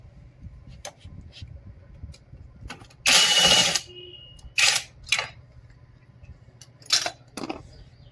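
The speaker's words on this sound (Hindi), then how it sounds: "इसको खोलने के लिए फिर से मैं इस गन का इस्तेमाल करूँगा और इस तरीके से खोल लूँगा" An impact gun backing out an 8 mm bolt on the clutch cover of a Hero Splendor BS-6 motorcycle, heard as one long loud rattling burst followed by several shorter bursts, close by over a quiet low hum.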